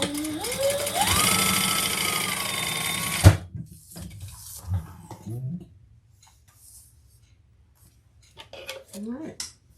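Sewing machine top stitching the bottom of a fabric bag, a steady motor whir for about three seconds that stops abruptly, followed by quieter handling sounds and brief talking.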